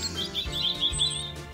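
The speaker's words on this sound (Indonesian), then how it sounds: "Sementara Nicholas sedang tertidur, satu keluarga burung membangun sarang di rambutnya." Birds of a nest-building family chirp and tweet in a quick, bright run of calls over a steady tonal background, with no talking.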